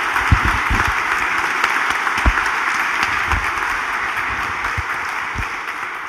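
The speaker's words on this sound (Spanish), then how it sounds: "vamos a darle un gran aplauso." A congregation applauds during a Spanish-language Sunday Lent mass in a church, a dense, continuous roar of clapping with a few louder knocks standing out.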